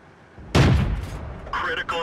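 A tank gun in World of Tanks fires once with a heavy booming blast that decays over about a second, followed by a voice speaking over the fading rumble.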